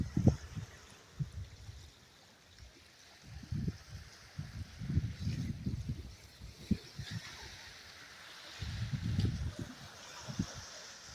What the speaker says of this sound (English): you can hear the waves hitting against the jetty